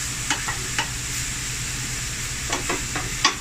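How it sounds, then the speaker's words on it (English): A 50-50 blend of ground beef and pork mince fries in a rondo pan with a steady, close sizzle, while a utensil breaks it up with several scraping stirs, bunched near the start and again toward the end. "Going to break it up here. This is a blend of beef and pork, 50-50."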